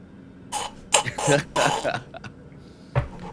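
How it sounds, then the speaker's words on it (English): A few harsh, raspy coughs and throat-clearing bursts close by, separated by short pauses. "Cough, wheeze."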